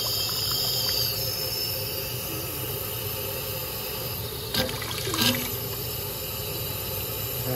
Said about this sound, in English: The sound changes as you throttle the water back.